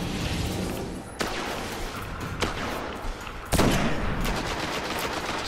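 Steady automatic gunfire in Destiny rattles on throughout, punctuated by a few sharper, heavier shots that stand out above the continuous stream.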